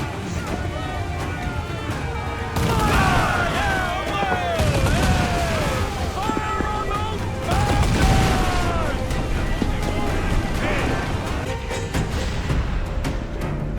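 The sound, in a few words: ship cannon fire in video game Assassin's Creed IV Black Flag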